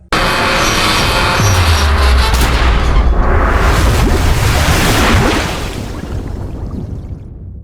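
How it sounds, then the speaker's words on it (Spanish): A massive, sustained roar like a close explosion over a river rumbles for several seconds, then slowly fades into a lower wash of noise. "Violenta explosión sacudió el aire"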